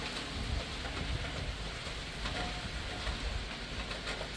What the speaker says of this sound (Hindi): तेज़ हवाओं के साथ बारिश, हेवी रेन